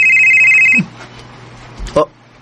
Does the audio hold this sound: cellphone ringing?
yes